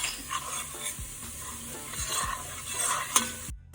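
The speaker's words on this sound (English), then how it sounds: "just with the oil and the curry powder for a couple minutes until it becomes super fragrant" Curry powder and garlic fry in oil in a pan for Jamaican curry chicken, sizzling steadily while a utensil stirs and scrapes in repeated strokes, up close and without talk, ending abruptly.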